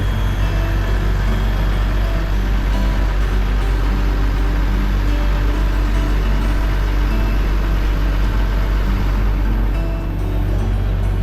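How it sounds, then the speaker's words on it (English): A large truck delivering grapes to a winery in Manduria, Puglia, runs steadily with a deep low engine rumble, loud and close throughout, with no speech over it. "I think it's a pretty big truck there with a lot of grapes"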